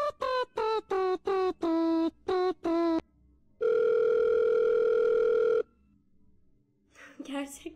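A phone call being placed: a series of short, even ringback beeps, then a long steady tone lasting about two seconds, with a brief voice and noise at the end.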